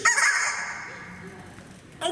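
Squeak from a rubber chicken toy: a loud, reedy honking squeal at the start that fades over the next second, then a brief second squawk at the very end.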